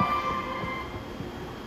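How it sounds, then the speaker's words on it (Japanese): A JR East 209 series 1000 train departs Toride station on the Joban line, its faint, steady rolling rumble accompanied by a thin high tone and no horn. "4番線から団体列車が発車いたします。"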